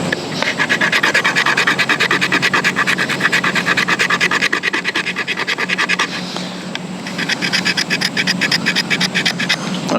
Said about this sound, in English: if you can scrape some Fatwood with it, it really is a good way to get some tinder